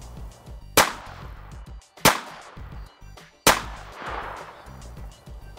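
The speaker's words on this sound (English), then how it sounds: "See how I was shooting? And as I shot, it reloaded automatically." Three sharp, loud shots from a semi-automatic pistol ring out about a second and a half apart, each with a brief echoing tail.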